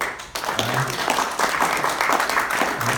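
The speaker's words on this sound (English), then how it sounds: "So give you guys a round of applause for being here." Loud audience applause at a social media influencer panel event, a dense continuous patter of clapping with voices mixed in beneath it.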